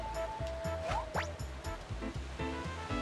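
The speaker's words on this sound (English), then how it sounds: "There's this waterfall." Waterfall in the video game Pokémon Snap: a steady rushing wash of falling water under a pulsing, rhythmic game soundtrack, with a few brief swooping effects on top.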